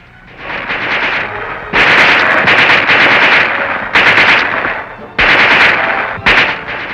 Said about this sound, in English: he had to learn to operate a whole new group of infantry weapons. The submachine gun,